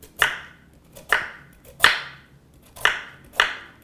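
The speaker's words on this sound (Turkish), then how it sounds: "Şimdi havuçları ben zaten doğradım. Halka halka doğruyoruz." Five crisp knife chops slicing carrots into rings on a cutting board, evenly spaced about two-thirds of a second apart, close and clear with no talking.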